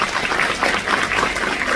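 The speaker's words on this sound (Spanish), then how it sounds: "para quienes pido un fuerte aplauso." Audience applause at the V International Obstetrics Congress of the Paraguayan Obstetricians' Association, a dense, steady wash of many hands clapping together, fairly loud and continuous throughout, with no speech over it.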